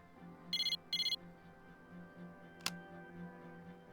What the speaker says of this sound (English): Fuuka looked at the message she received on her cell phone.